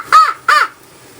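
A crow gives two loud, harsh caws close by during an outdoor hunting trip, each a short descending call, followed by quiet.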